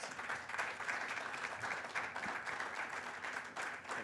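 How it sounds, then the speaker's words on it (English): An audience breaks into steady, full applause to welcome a speaker at a Ramadan cultural talk, a continuous wash of many hands clapping that holds evenly for the whole stretch with no voices over it. "please help me welcome Mr. John Emery with a warm CLC round of applause"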